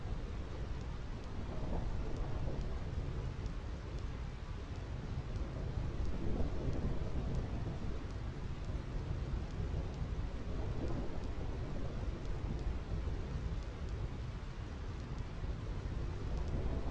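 Thunderstorm in the Final Fantasy X video game, with steady heavy rain and rolling thunder rumbling continuously for the whole stretch, loud and dense with no voices.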